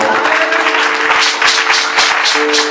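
A church congregation applauding the Lord during a service: steady, dense clapping fills the whole stretch, loud and close, with a sustained organ or keyboard chord held underneath.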